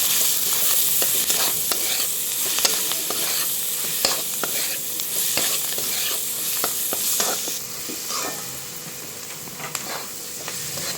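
Onion chutney with coriander fries in a pan, a close continuous sizzle broken by frequent scraping stirs of the spoon, with no voices.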